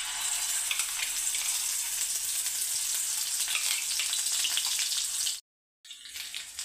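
Spice masala for karela bhaji sizzles steadily in hot oil, a dense, bright crackle that holds evenly before a sudden brief cut to silence and a quieter return.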